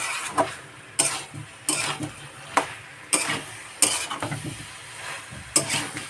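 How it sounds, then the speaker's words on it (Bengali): Soybean and potato curry is stirred in a pan, with repeated scraping strokes about once a second over a low sizzle, close and fairly loud. "সয়াবিনটা দিয়ে একটু নাড়িয়ে চাড়িয়ে জল দিয়ে দেবো।"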